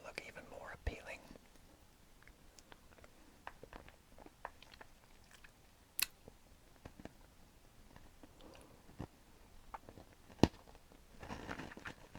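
Maltesers chocolate balls are crunched and chewed close to the mic in quiet, irregular bites, with soft whispering drifting under the sharp crunch clicks over several seconds.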